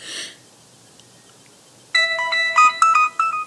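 A bright phone notification tone plays a quick melodic sequence of chiming notes, preceded by a short soft burst and a quiet pause.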